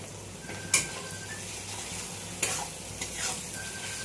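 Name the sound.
onions frying with ginger and garlic paste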